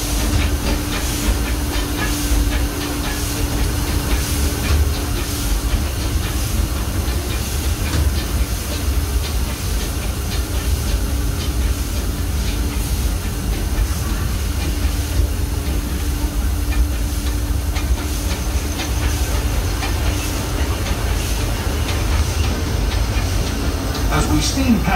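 The small Disneyland Railroad steam train chugs along steadily with hissing steam and rolling rattle, a voice talking faintly over the continuous noise.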